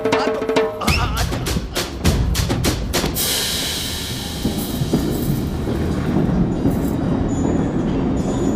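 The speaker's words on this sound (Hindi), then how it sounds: "मेरी ट्रेन छूट जा रही है" Train departing from a platform, rhythmic heavy clatter of wheels over rail joints that gives way to a continuous rolling rumble and hiss, loud and close.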